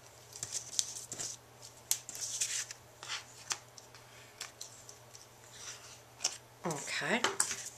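Scissors trimming a length of ribbon on a handmade tri-fold paper card, giving several short close snips and crisp rustles at irregular intervals, with a voice talking over parts of the cutting.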